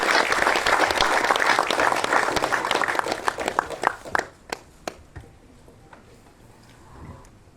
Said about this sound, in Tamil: ஒரு பலத்த கரகோஷங்களுடன் எழுத்தாளர் இயக்குனர் நடிகர் சேரன் அவர்களை மேடைக்கு அழைக்கிறோம்